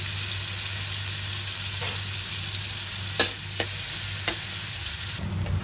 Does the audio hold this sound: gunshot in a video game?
no